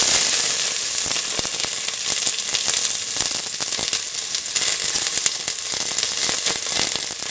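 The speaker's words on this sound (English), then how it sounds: "Put in the onion pieces." Onion pieces sizzle loudly in a pan for a coconut milk soya chunk and bell pepper stew, a close, dense crackle with rapid popping bursts throughout and no voices.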